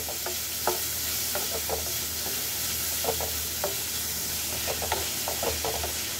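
Onions fry in a pan until transparent with a continuous hissing sizzle, and repeated short scraping strokes from stirring come in small clusters throughout.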